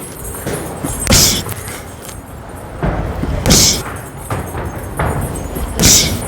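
Left hook punches land on a punching bag during boxing training, giving three heavy, sharp thuds spaced about two seconds apart. Quieter shuffling and softer taps sound between the strikes.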